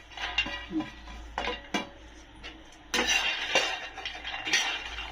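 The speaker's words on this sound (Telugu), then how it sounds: "ముందుగా మనం ఎండుమిర్చి పల్లీలు వేసుకొని బాగా వేయించుకుందాం" Dried red chillies and peanuts dry-roasting in a pan for mango pickle, heard as a series of close metallic scrapes and rattling clinks of a spoon stirring against the pan, irregular bursts with quiet gaps, no talking.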